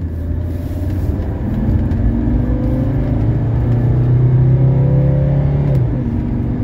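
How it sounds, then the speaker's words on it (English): A 1982 Mercedes 300SD diesel sedan accelerates at full throttle, its engine note climbing steadily and loudly close by, then dropping at a gear shift near the end before rising again. "We'll put the pedal down here."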